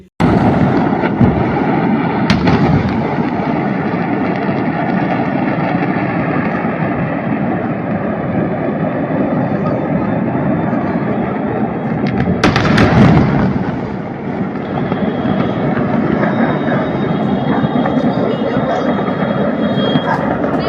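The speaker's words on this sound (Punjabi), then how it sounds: "ਇੱਕ ਪਟਾਕਾ ਫੈਕਟਰੀ 'ਚ ਅਚਾਨਕ ਧਮਾਕਾ ਹੋ ਗਿਆ" Blasts at a fireworks factory in Harda, Madhya Pradesh: a loud, continuous roar of fire and crackling, punctuated by two sharp, powerful explosive bursts, with distant commotion underneath.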